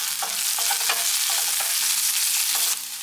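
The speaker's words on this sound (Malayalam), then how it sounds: "അതുപോലെ 2 വറ്റൽമുളകുണ്ട്, അതുകൂടെ ഇട്ട് കൊടുക്കാം. കറിവേപ്പിലയും കൂടി ഇടാം. ഇതൊന്ന് മൂപ്പിച്ചെടുക്കാം." Shallots, dried red chillies and curry leaves fry in hot oil for Kerala tapioca in coconut milk, a steady loud sizzle with a few scraping stirs, close and continuous, no talking.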